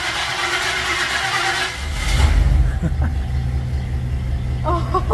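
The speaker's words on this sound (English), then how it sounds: "Okay, so just crank her. Just crank it." A classic car's starter cranks and the engine catches into a loud, close rumbling idle, with people talking around it.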